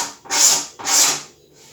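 A scalpel held at 45 degrees scrapes along the sharp edge of a plastic part, two quick rasping strokes in a row, close and crisp, with no talking.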